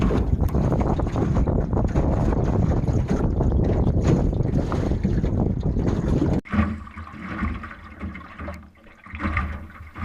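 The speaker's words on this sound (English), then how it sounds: "It was getting pretty windy" Strong wind buffets the microphone on a layout boat out on Green Bay, a loud roaring rumble that suddenly drops and then gusts in uneven surges, with water sounds underneath.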